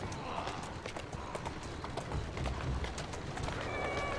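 Hooves clip-clop steadily from a horse in the Assassin's Creed Syndicate video game, heard as a continuous run of close hoofbeats over a busy game soundscape, with speech-like voices mixed in.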